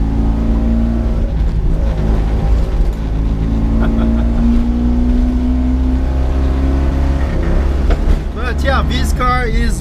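A 1980 Mitsubishi Minica with a carburetor and no suspension drives a very bad road, its small engine droning loud and steady as it shifts into fourth, with a brief rising whine near the end.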